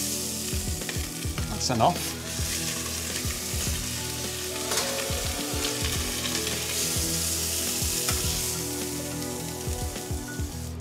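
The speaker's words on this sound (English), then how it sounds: "So in the same pan, we're adding those leftovers of trimmings again." Meat trimmings sizzle and fry steadily in oil and butter in a pan, a loud continuous crackle with scraping and stirring noises near the mic, and a brief spoken phrase early on.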